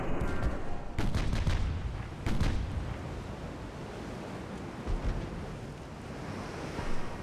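Naval guns firing in the video game Ultimate Admiral Dreadnoughts: a few deep, booming salvos near the start that roll off into a steady wash of ocean and wind noise.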